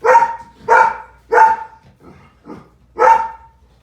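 A frightened pet dog, afraid to step off a chair, barks five times in a close, loud series, with two softer yips in between and no talking over it.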